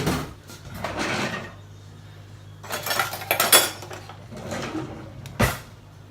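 A sharp knife chops lettuce leaves for a salad in a home kitchen, giving a few scattered bursts of cutting and clattering knocks against the board, with a louder cluster near the middle and a final sharp knock.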